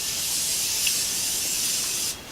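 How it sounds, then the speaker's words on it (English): Morphe setting spray misted onto a face, one long continuous hiss of fine spray close to the microphone that stops abruptly near the end. "But first I'm going to take Morphe spray"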